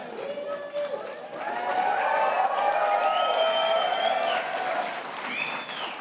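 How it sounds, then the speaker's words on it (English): An audience at the White House Tribal Nations Summit applauds steadily for several seconds, a dense crowd clapping that swells and holds, with a voice ringing out over it. "you should be clapping"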